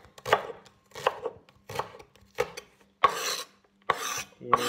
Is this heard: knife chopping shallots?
yes